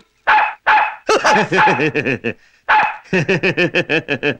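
A dog barks loudly and close in a comedy film scene, two short yelps followed by rapid strings of yapping barks in two bursts separated by a brief pause.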